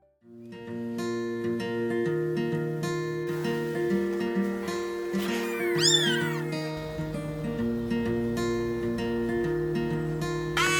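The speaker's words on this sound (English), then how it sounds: "And Camo gave us a bunch of really adorable kittens." Domestic cat and her litter of kittens meowing in a steady stream of overlapping calls, loud and near, some drawn out into wailing cries, with no talk.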